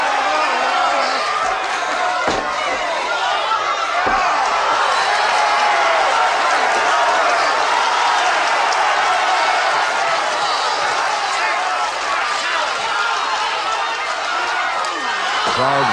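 A wrestling crowd at the Alfred Hayes vs Steve Veidor bout roars loudly and without a break throughout, with cheering and shouts layered under a commentator's voice.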